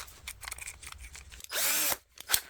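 An electric drill briefly bores a hole into a model-building part, giving a short burst of motor whir of about half a second among faint handling noises, with a second quick blip afterward.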